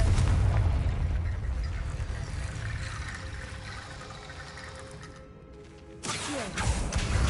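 Confringo fire spell blast in Hogwarts Legacy, a broad rumbling burst that fades slowly over several seconds before a fresh crackling impact near the end.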